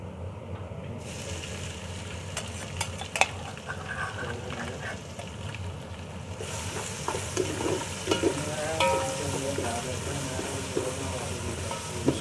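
Garlic and ginger paste sizzles hard in a hot pan while a spoon scrapes and stirs it, with metallic clinks now and then. The frying hiss runs loud and continuous, close up, with no talking.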